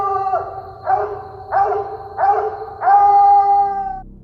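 A dog lets out a series of five rising, wavering howl-barks, each a loud close yelp stretching into a drawn-out howl, the last held longest before fading.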